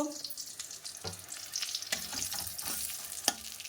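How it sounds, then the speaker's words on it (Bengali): Pumpkin flower fritters in gram flour batter fry in hot oil with a steady soft sizzle, broken by a few sharp stirring clinks. "বেসন দিয়ে আজকে কুমড়ো ফুলের বড়া ভাজা করব"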